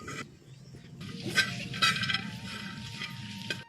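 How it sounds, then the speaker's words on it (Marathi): Green chillies and peanuts roast in a pan over a wood-fired clay stove, stirred with soft scraping strokes and occasional light metallic clinks; fairly quiet, close, with brief bursts of crackle and no talking. "आता चांगले मिरच्या भाजून घ्या"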